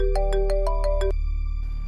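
A mobile phone rings with an incoming call, playing a short melodic ringtone of about six quick beeping notes that then stops, clear indoors with no talking.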